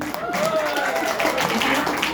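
Group clapping at a talk or gathering, steady dense applause filling the clip under ongoing background voices and crowd noise.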